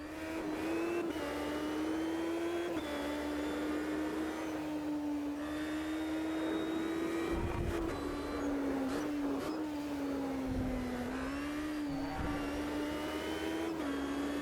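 Racing car engine in the Automobilista 2 sim racing game: a steady, loud, droning engine note that rises and dips slightly with throttle and shifts, continuous for the whole stretch with no talk.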